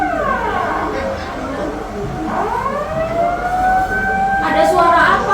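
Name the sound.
tsunami warning siren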